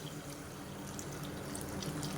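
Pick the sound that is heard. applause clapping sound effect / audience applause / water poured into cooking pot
water poured into cooking pot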